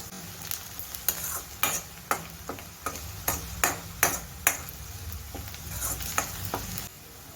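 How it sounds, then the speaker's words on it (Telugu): Onions and cumin fry in a pan for a cauliflower pepper fry, a bright steady sizzle punctuated by a regular series of sharp spoon scrapes and taps against the pan, no talking. "వీటిని బాగా కలర్ మారే వరకు ఫ్రై చేసుకోవాలి."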